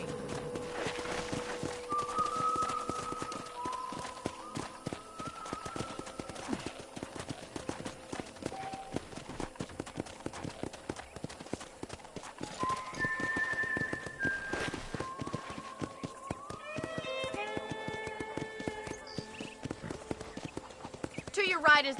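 Horse hooves clip-clop steadily in Red Dead Redemption, a rhythmic walking gait with an occasional whinny, over soft game music and intermittent character dialogue.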